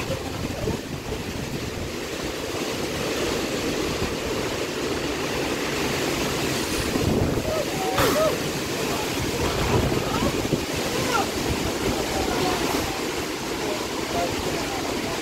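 Strong wind from Super Typhoon Uwan roars continuously around a house, a loud, dense rushing with gusts that swell and ease but never drop away.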